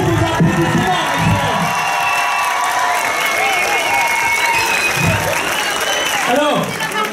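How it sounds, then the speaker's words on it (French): Applause and cheering from a crowd at a wedding ceremony in Tarbes, steady and loud throughout with whoops and voices mixed in. "Sous vos applaudissements."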